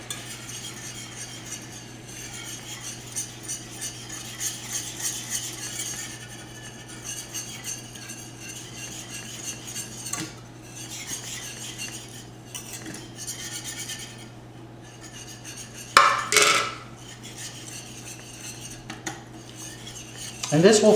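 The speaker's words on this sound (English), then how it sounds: "Now I'm going to add my flour and gradually, and we're going to whisk it into the butter." A whisk clinks and scrapes as flour is worked into melted butter in a frying pan to make a roux for brown sauce. The metal clatter runs steadily throughout, with a sharper knock near the end.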